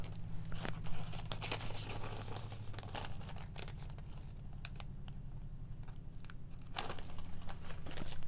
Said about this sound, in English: I'm going to take a piece of my go-to tape